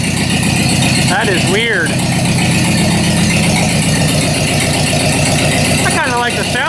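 Ford 2N tractor engine idling with a rattle and a clutch problem, a loud steady chugging drone close by, with someone briefly speaking over it.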